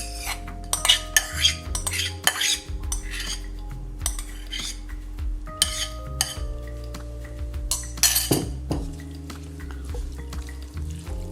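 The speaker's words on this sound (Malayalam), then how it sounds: "ആ വെള്ളവും മാങ്ങയും എല്ലാം കൂടി ഇതിലേക്ക് ഇട്ട് നമ്മൾ മിക്സ് ചെയ്യുകയാണ്." Spoon clinks and scrapes against a vessel while cut mango pieces and their liquid are stirred together for a Kerala-style mango pickle, giving an uneven run of close, bright metallic taps and wet scraping with no talk.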